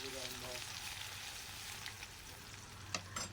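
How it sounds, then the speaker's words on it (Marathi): Ground garlic sizzles steadily in hot oil with crackled mustard seeds and cumin for a masala paneer base, a soft, continuous frying hiss with a few brief pops and clatters. "आता लसण आपल्याला चांगलं लाल लाल होऊ द्यायचं आहे"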